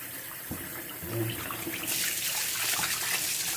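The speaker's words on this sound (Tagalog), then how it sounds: "I-drain sa running water. I-drain ko yan." Tap water runs steadily into a sink while oxtail pieces are drained and rinsed under it, the broad gush growing louder and fuller partway through, with occasional clunks of the meat and container.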